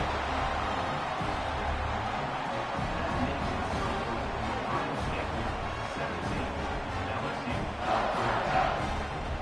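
A stadium crowd at a football game buzzes after a score, a broad steady roar of many voices with a few louder swells near the end.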